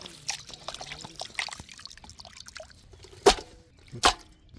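Water trickles and splashes as it is poured over chicken drumsticks with lemon in a bowl, with soft handling noises and a couple of sharper knocks.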